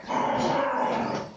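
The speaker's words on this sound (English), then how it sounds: "Somebody grab the dog." A dog growls low and steady in a room for about a second, a close, moderately quiet rumble with a slight whining edge and no voices over it.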